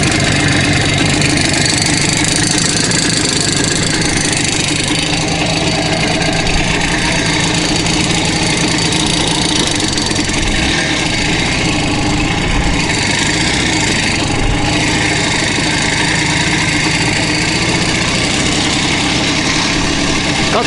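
An IZh Jupiter 2 motorcycle engine runs steadily at idle after starting, a loud, continuous two-stroke rumble close to the microphone with no clear pauses.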